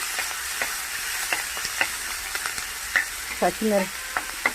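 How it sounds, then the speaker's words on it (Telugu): Green chillies, garlic, tamarind and coriander fry in a pan with a steady sizzle, broken by frequent sharp scraping and stirring knocks of a spoon against the pan. "పచ్చిమిర్చి, వెల్లుల్లి, చింతపండు, కొత్తిమీర ఇవన్నీ అది వేగాయి కదండి"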